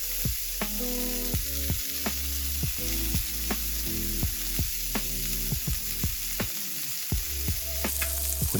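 Buffalo burger patties topped with cheese fry in a pan with a strong, steady sizzle close by, broken by repeated sharp clicks and taps of a utensil, and no voices.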